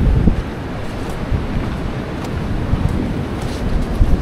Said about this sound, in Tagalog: Tapos mahangin pa, di siya mainit.